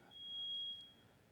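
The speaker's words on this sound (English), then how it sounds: "That's just the fire alarm, don't worry." A single long, thin electronic beep from a fire alarm sounds steadily for under a second, faint and distant in a quiet seminar room.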